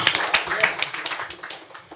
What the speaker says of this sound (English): Let's give a nice round of applause to our next moderator